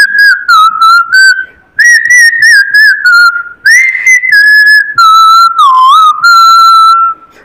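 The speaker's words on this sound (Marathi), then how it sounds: "मी शिट्टीतून गाणं म्हणून दाखवणार." A person whistles a song, a loud, clear, close melody of short phrases with varying pitch and brief gaps between them, heard alone with no talk.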